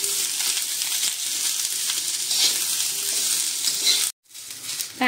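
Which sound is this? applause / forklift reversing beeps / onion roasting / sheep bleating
onion roasting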